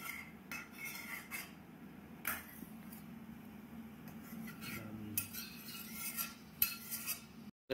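A metal kadai clatters and scrapes against the stove, with several light metallic knocks and rubbing sounds over a quiet kitchen background, close and fairly soft, with no voices.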